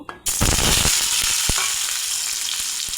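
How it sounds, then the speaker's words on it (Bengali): Potato pieces fry in hot oil after other vegetables, for a vegetarian drumstick curry, giving a loud, steady sizzle with a few sharp clinks and pops near the start, then a continuous hiss with no talk. "একই তেলে আলুগুলো ভেজে নেব"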